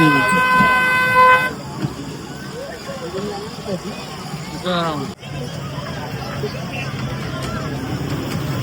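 A toy train ride at the Kokan Mahotsav fair in Bhandup sounds a loud, sustained toot for about a second and a half, followed by busy crowd babble and fairground noise.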